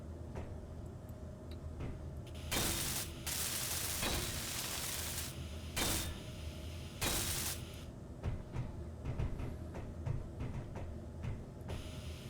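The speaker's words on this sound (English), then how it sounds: "Get that welded up." Welding blocks onto a ship in Space Engineers, with bursts of harsh broadband hissing and crackling that switch on and off against a steady low mechanical hum, the bursts lasting about a second each with scattered ticks between.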